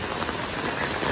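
Rain falls steadily outdoors on a slippery rural path, a dense, even hiss of drops heard up close throughout the brief moment with no voices.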